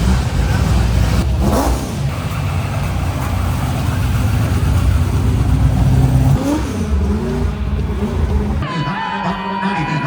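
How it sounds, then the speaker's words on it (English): A NASCAR RP57 engine in a 1970 Plymouth Cuda rumbles and revs loudly amid auction crowd noise, with people talking in the background. "1970 Cuda. RP57 NASCAR engine."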